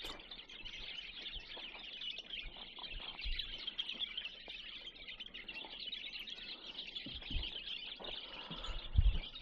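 Bulbul birds, around 200 pairs, are let out of cages at an outdoor spot. A dense, continuous chorus of chirps and tweets fills the whole stretch, with a few soft low thumps mixed in.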